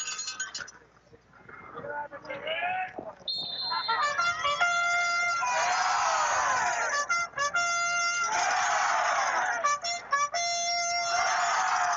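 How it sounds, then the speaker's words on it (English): A trumpet plays in the stands at a Trojans football game, sounding sustained, ringing notes and short phrases over the murmur of the crowd, with a quiet stretch at the start before the horn gets loud. "It's a legitimate trumpet in the crowd."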